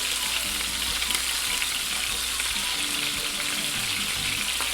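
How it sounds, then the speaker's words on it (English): Butterflied shrimp sear in a hot pan on a stovetop, a steady, dense crackling sizzle that carries on unbroken and fairly loud, close up, with a few faint scrapes and no talk. "So we're gonna let them sear for about 2 minutes on each side."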